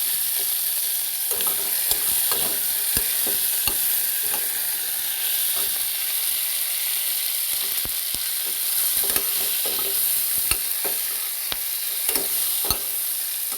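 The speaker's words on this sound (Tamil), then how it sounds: "சேர்த்துட்டு நல்லா வதக்கிடுவோம்" Shallots, curry leaves and tomatoes sauté for brinjal chutney with a loud, even sizzle throughout. A spatula scrapes and clicks against the pan at irregular intervals.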